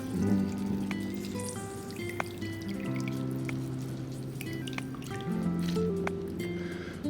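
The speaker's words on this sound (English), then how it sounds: "And squeeze that orange in there." A fresh orange is squeezed by hand so its juice runs into a bowl, giving close, wet dripping and squishing with small trickles. Low steady tones sit underneath.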